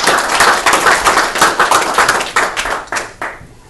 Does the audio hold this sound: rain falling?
no